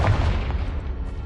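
A short, heavy booming blast from the Confringo explosion spell in the video game Hogwarts Legacy, a loud low burst that rolls off quickly.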